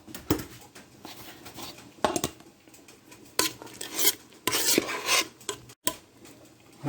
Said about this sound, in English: I'm going to go ahead and start filling up my jars here.